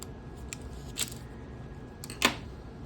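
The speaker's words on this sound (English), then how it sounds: "This is the last suture that I'm gonna waste. Okay, so let's cut this guy." Two quick, close snips of scissors cutting a surgical suture during practice, each a short crisp click in an otherwise quiet room.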